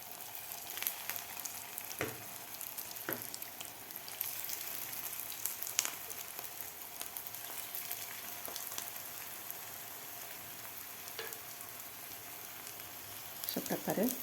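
Pea and spinach tikki cutlets fry in oil in a pan over medium heat, a steady broadband sizzle lasting throughout with occasional crackles and pops, loudest near the end.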